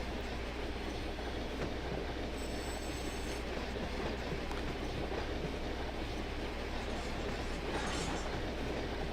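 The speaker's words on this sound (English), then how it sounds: "Applying some independent brake and some train brake." Freight train in the Run 8 train simulator game braking as it pulls into a spur, giving a steady loud rumble of rolling cars with faint high brake or wheel squeal and no talking.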